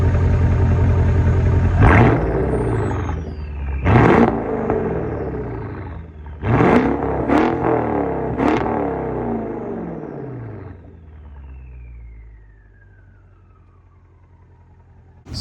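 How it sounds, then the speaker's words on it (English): A 2016 Mercedes-Benz S550 Coupe exhausts revving in several sharp bursts, each rising roar falling back to a deep rumble, before the car pulls away and its engine note fades into the distance. "the exhaust note sounds really good"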